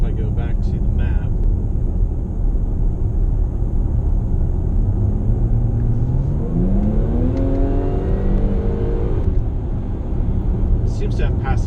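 A 2017 Jaguar F-Pace 35t R Sport accelerates from inside the cabin, its engine note climbing steadily in pitch over a loud road rumble, with someone talking throughout.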